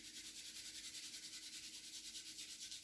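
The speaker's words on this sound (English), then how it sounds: "Bringing palms together, rubbing them to warmness." Palms rubbing together for warmth at the end of a yoga session, a soft, steady, rhythmic swishing friction that is faint and close, with no talking over it.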